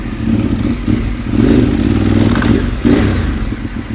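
A Ducati 848 Evo L-twin superbike engine revs loud and close, with a deep throbbing roar that swells and dips across repeated throttle blips.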